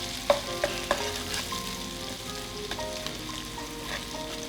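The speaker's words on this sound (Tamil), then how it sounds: "இப்போ இந்த வெங்காயம் வதக்கின பிறகு கொஞ்சம் வதங்கணும்." Chopped onions fry in a pan for a ladies' finger chutney, giving a steady close sizzle. A spoon scrapes and clinks against the pan several times as they are stirred.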